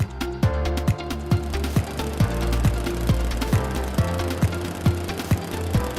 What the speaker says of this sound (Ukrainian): Я прибираю листя косаркою.